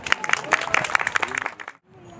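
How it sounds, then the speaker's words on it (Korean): Audience applause welcoming a traditional Korean jeongga singer onto an outdoor gugak concert stage at Woljeonggyo Bridge, a dense burst of clapping with some crowd noise that stops abruptly near the end. "소리꾼 모시고 여러분 큰 박수로 무대에 청해오겠습니다"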